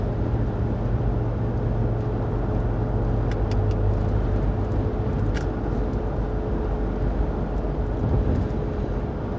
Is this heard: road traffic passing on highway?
yes